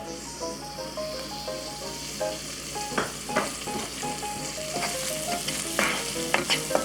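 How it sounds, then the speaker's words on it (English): Onions, celery and green onions sautéing in a pan give a soft continuous sizzle, with intermittent scraping and clinking as they are stirred, close and fairly quiet, no voices. "So let's start by sauteing the onions."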